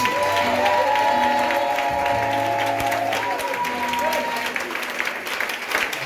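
A church congregation claps steadily through a Christian worship service, a dense, sustained wash of applause with sustained musical tones and some voices underneath.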